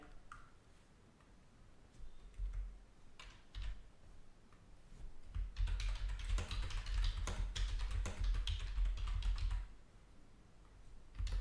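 Typing on a computer keyboard while writing an ad, a steady run of soft close key taps that grows into a dense, faster patter in the middle before easing off, with no speech.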